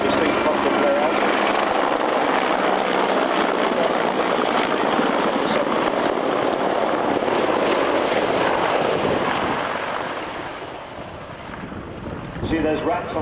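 A Hind helicopter flying at the RIAT Fairford Air Tattoo in 1994 makes a loud, continuous rotor and engine roar with wind buffeting, fading slightly toward the end before swelling again.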